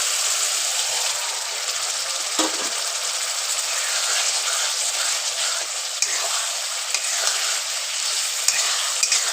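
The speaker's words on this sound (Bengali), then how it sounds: "এবার দিয়ে দিব আমি ভাজা পটল।" Pre-fried pointed gourd (potol) sizzles steadily in hot spiced oil after the masala has cooked down, a close, continuous hiss and crackle with a few small clinks and stirring sounds throughout.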